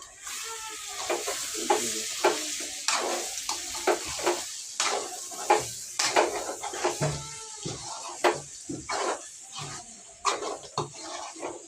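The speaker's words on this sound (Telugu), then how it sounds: "ఇప్పుడు ఒక్కసారి అన్నీ వేసి కలిపేస్తాను" Chicken fry with curry leaves and coconut powder stirred in a pan, close and moderately loud, with repeated scraping and clinks of a spoon against metal over a steady sizzle, no talking.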